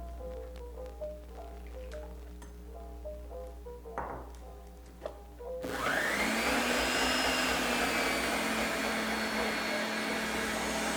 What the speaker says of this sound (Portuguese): eu vou bater as claras em neve.